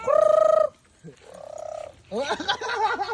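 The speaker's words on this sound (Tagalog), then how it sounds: "Chicken." Chicken calling near a family yard: three loud, throaty, drawn-out calls with short gaps between them, the last one rougher and more broken up.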